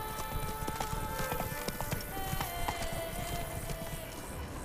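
Roach, Geralt's horse in The Witcher 3: Blood and Wine, gallops in Toussaint with a brisk, continuous clip-clop of hooves over a busy game backdrop and a sustained musical tone, fairly close and steady throughout.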